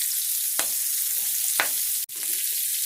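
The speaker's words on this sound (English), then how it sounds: "Then we're going to go in with our chopped chard." Chopped chard sizzling in a tablespoon of oil in a hot pan, a steady close crackle with a few sharp clicks of stirring utensils against the pan.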